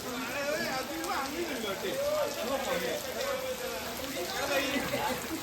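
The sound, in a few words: rain falling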